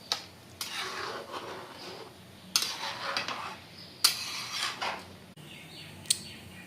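Chicken for Kolkata-style biryani mixed with ginger-garlic-chilli paste in a pot, heard as soft, steady squelching and scraping broken by a few sharp utensil clinks on the metal, close and quiet, with no speech.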